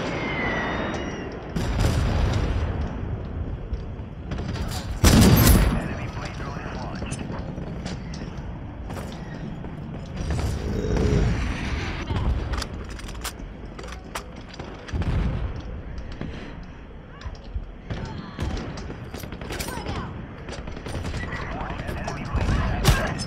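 Bursts of gunfire and booms from the video game Ironsight, with a loud blast partway through, under excited talking.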